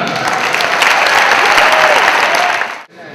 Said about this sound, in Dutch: Ik wil dan heel graag nog een heel erg daverend applaus voor Shana